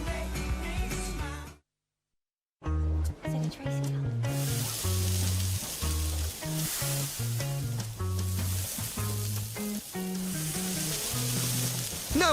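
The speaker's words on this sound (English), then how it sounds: "No one can resist the cool of the sizzle. The new Brazier from KFC, our first ever griddled chicken." Griddled chicken sizzles loudly in a TV advert for the KFC Brazier, with a brief drop to silence before the sizzle returns under backing music.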